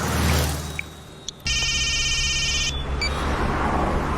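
Telephone ring tone sounds as a single steady electronic burst lasting about a second, preceded by brief beeps, over a low background hum, with no talk.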